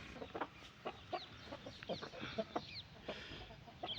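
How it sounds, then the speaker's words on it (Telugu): An eastern cross hen of the Bhimavaram breed, ready to lay, clucks in a series of short, close calls against faint farmyard background noise. "ఇది వచ్చేసి భీమవరం, అదే తూర్పు జాతి క్రాస్ పెట్టండి"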